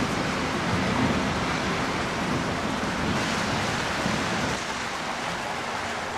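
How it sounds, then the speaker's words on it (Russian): Heavy rain pours down steadily during an early-April thunderstorm, a dense hiss of water that eases only slightly toward the end. "На улице идет ливень"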